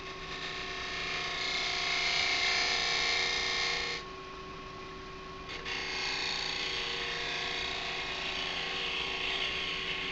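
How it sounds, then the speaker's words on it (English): Small spindle detail gouge cutting a dovetail into an ash dish turning on a lathe, a steady rough scraping hiss over motor hum, briefly easing off midway before resuming, with no talk. "I'm just going to use my small spindle detail gouge just to make a bit of a dovetail there."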